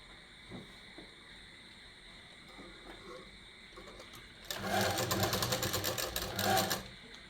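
A sewing machine stitching a gents kurta pajama runs in a fast, dense burst of about two seconds after a quiet stretch of faint clicks and handling noise.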